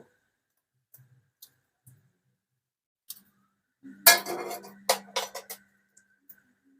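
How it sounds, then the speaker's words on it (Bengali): A whole egg cracked open in a home kitchen: a few faint taps, then a short burst of crisp shell cracking and clicks around the middle, close and alone in a quiet room. "এবার আমরা একটা আস্ত ডিম প্রথমে ফাটিয়ে নিয়ে নেব"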